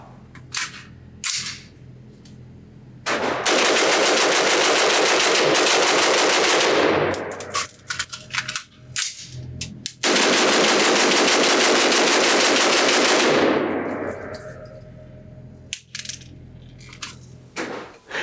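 A B&T APC223 Pro pistol fired rapidly outdoors at a range, two long strings of fast, loud, close shots separated by a pause, with scattered single clicks and casing clinks around them.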